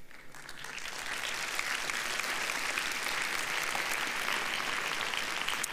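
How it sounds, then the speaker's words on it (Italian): Steady applause from a large audience at a speech event, dense clapping building in the first second and then sustained at an even level throughout. "E voi applaudite, e voi applaudite perché sta succedendo in voi"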